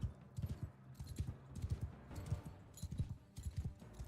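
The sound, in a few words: horse hooves in the video game Mount and Blade: Bannerlord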